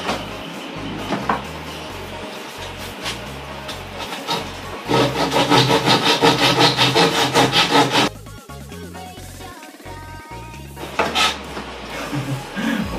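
An old hand saw, unused for about ten years, cuts through engineered wood for a DIY dog cage. Steady rhythmic back-and-forth rasping strokes sound loud and close, growing heavier in the middle, with a brief pause before the strokes resume.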